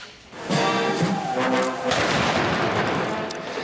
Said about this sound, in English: The cannons fired